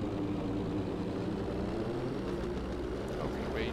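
A fixed-wing aircraft passes overhead in the Battlefield V video game, with a steady propeller-engine drone holding at a moderate level through the whole stretch amid background game noise.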